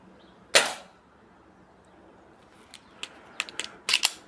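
An air gun fired once at close range gives a sharp crack, followed by a scatter of lighter clicks and ticks from handling the rifle.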